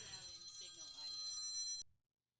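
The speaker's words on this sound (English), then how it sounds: "Whoops, did you hear that? That was the phone." A telephone rings with a bright, steady tonal trill that cuts off abruptly, heard faintly indoors beneath a man's ongoing speech before silence follows.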